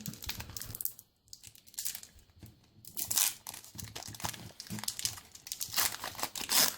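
A Harry Potter movie trading card booster pack is torn open and unwrapped, with crinkly tearing and crumpling bursts in irregular clusters, close up and with no voices.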